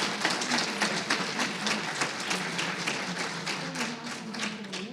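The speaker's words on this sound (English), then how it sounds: "I want to give a last round of applause" An audience at a Preservation Maryland event marking the 100th anniversary of the 19th Amendment claps in a steady, moderately loud round, with faint voices murmuring underneath.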